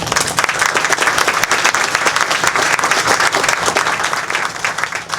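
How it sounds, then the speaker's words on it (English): Audience applause at a public address honoring friends and speakers, dense steady clapping from a large crowd filling the whole stretch at full loudness without pause. "If we give an applause for them as well."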